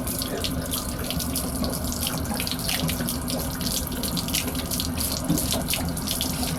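Water drains steadily from the plumbing of a 2012 Keystone Passport 3220 BH travel trailer, a continuous splashing rush of water that runs without a break.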